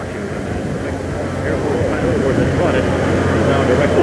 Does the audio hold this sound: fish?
no